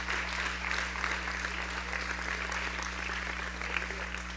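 Applause from a church congregation at a religious retreat, a steady, fairly faint and even roar of many hands clapping over a low electrical hum, with no break in the sound.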